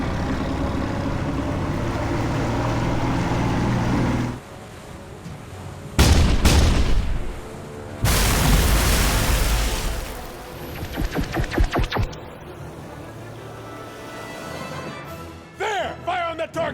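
A warship's forward 5-inch guns fire in a movie battle scene, heavy booming blasts in a few separate bursts with rumbling tails, loud and close, amid cinematic sound and shouted voices.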